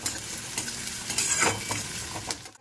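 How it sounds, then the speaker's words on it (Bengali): Parboiled potatoes fry in hot oil with a steady sizzle, broken by bursts of scraping and stirring, ending in a brief near-silence. "প্রেশার কুকার থেকে না আলুগুলো তেলের মধ্যে দিয়ে দিলাম"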